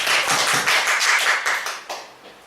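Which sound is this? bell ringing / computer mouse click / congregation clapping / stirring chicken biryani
congregation clapping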